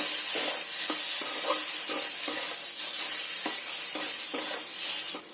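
Spices for a homemade biryani are stir-fried in a pan, with a continuous loud sizzle of hot oil and a steady rhythm of spatula scrapes and knocks against the pan, and no voices.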